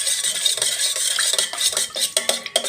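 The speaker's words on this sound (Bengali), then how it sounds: "আর 1 চামচ ভর্তি ভর্তি করে চুন গুলে নিলাম" A spoon stirs a heaped spoonful of lime into water in a bowl, with close repeated scraping and clinking against the vessel that grows more rapid toward the end.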